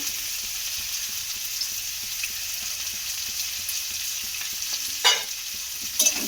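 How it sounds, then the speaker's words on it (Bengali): Grated coconut and salt fry in a pan for idli chutney, a steady soft sizzle running throughout with a couple of brief scraping stirs near the end; no one speaks. "এবারে এটাকে খুব ভালো করে এইভাবে ভেজে নেব"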